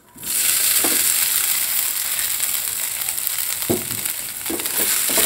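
Poha (flattened rice) sizzling steadily in hot ghee as it is stirred, with bay leaf and cardamom in the pan; a continuous close fry with a few soft scraping strokes of the spoon.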